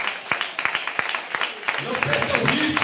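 Church congregation clapping for Jesus during a service, several sharp claps at first, then denser rhythmic clapping blends with a talking voice and music toward the end.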